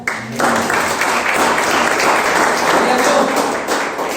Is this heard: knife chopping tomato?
no